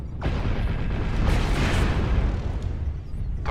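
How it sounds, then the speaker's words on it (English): A loud, rumbling blast and sustained roar from an airstrike in the mech combat game MechWarrior Online, booming for a few seconds before fading slightly; no talking. "Airstrike activated"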